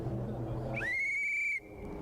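A rally marshal's whistle gives one piercing, steady blast lasting under a second, warning spectators. It rises sharply at the start and cuts off abruptly over rumbling background noise.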